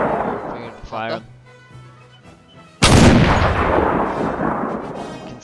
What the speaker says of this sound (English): We got the different, like, really old muskets too.